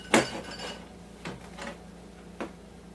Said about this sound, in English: I'm only cutting it just to make it easier for the chopping up process